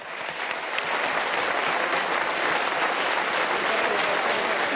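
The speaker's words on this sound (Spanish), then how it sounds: "así que yo solicito un aplauso para esta comisión." Members of a National Constituent Assembly session give a sustained round of applause, a dense, even wash of many hands clapping at moderate volume that swells in after a quiet start and holds steady.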